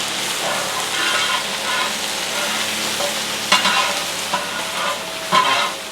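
A large batch of crushed garlic and ginger, about 350 grams each, fries in a big pot for chicken curry, a loud continuous sizzle broken by several scraping stirs of a spoon, with no voices.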